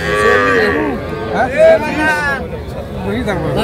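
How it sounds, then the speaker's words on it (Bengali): A Sahiwal bull calf moos at a busy cattle market in Dinajpur, a couple of drawn-out bellowing calls rising over crowd chatter and people talking nearby. "এই গরুটা আমরা দেখছিলাম, দেখাশোনা চলছে।"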